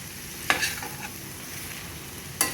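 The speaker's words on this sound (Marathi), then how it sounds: "तर हे कांदा आणि बटाट्याचं मिश्रण आपल्याला व्यवस्थित मिक्स करून घ्यायचं आहे" Onion and potato mixture for a yellow potato sabji stirred in a pan, a low steady sizzle with two sharp scraping clinks of the spoon, no talk.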